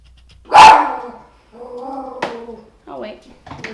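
Dogs barking indoors, one loud sharp bark up close followed by several yelping, whining barks, with a voice speaking briefly near the end.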